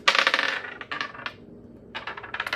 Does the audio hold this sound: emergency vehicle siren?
no